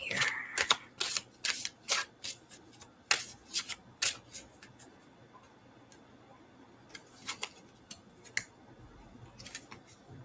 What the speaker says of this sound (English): let's see what it has to say today when we split the deck